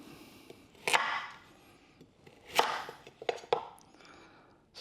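A knife chops big carrots into batons on a board, making about five sharp, uneven strikes close by with short pauses between them, and no speech.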